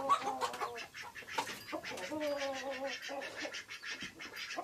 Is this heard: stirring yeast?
no